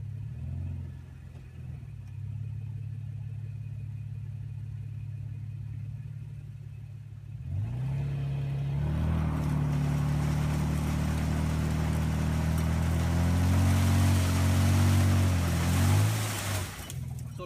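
A 2016 Toyota Tacoma in four-wheel drive idles at a low, steady rumble, then revs up louder and strains with rising and falling engine pitch while stuck, close by.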